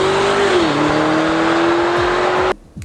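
Tuned Lamborghini Urus twin-turbo V8, roughly 700+ horsepower, roaring loud and close under hard acceleration with a steady droning growl and a shift, then cutting off abruptly near the end.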